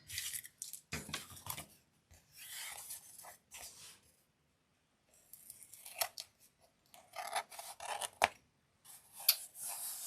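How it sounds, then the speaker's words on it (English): Close, crisp scissor snips on slightly soft paper in short irregular bursts, separated by brief quiet pauses, with a few sharper clicks near the end. "The scissors aren't cutting it"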